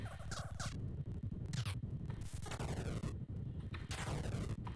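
Smart bomb detonating in the arcade game Defender, a loud burst of harsh electronic noise followed by descending warbling sweeps, amid dense continuous game sound effects with no voices.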